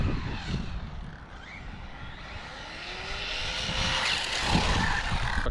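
RC car on a speed run with rough, grinding gear noise; a continuous whining drone rises in pitch as the car accelerates and passes at a distance, with outdoor background noise and no talking.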